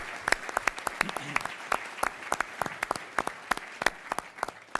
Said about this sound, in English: How about a round of applause for Kevin and his wonderful staff?